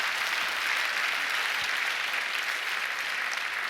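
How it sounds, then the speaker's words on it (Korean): A church congregation at a prayer meeting applauds, steady sustained clapping from many hands filling a hall, even and unbroken for the few seconds. "하나님 앞에 박수 올리겠습니다."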